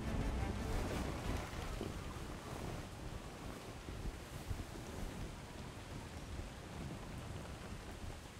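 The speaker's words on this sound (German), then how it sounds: "wenn dieser Scheißsturm jetzt mal bitte aufhören könnte, würden wir es vielleicht sogar noch schaffen" Stormy wind and waves at sea in the video game Atlas roar as a dense, continuous rush of noise, steady and fairly loud throughout with no voices.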